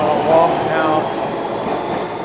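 Subway trains at the 49th Street station in New York, early morning: a steady rumbling rail roar with faint squeal, fairly loud and continuous, swelling slightly near the start.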